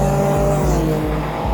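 A Porsche Group C race car at full throttle on a track roars loudly and up close, its engine note climbing repeatedly with quick gear changes between surges.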